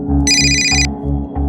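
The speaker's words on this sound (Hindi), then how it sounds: "जरा देख तो किसका फोन है।" A telephone rings with bright electronic tones in two short bursts, loud and close, over a steady low hum.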